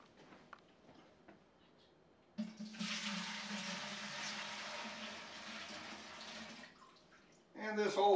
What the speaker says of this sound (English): Just as simple as filling up a pitcher and filling up the Berkey.